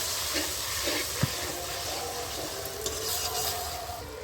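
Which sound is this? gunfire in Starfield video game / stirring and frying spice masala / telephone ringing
stirring and frying spice masala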